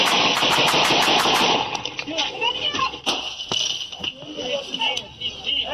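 In a police shootout, a rapid string of about eight gunshots comes first. Scattered single shots follow, with people talking over them.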